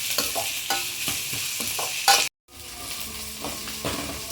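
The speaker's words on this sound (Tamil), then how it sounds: "நல்லா வதக்குங்க. கொஞ்சம் உப்பு போட்டு வதக்குங்க, வெங்காயம் சீக்கிரம் வதங்கிடும்." Onions sautéing with salt in a pan for a village-style dried-fish curry: a loud close sizzle with brisk rhythmic stirring scrapes, a brief cut to silence, then the frying resumes.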